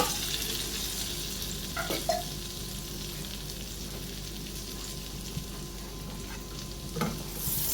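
Garlic and green chilies frying in a pan for chicken soup, with a steady broadband sizzle throughout and a few brief stirring scrapes near the start and end, close and fairly even.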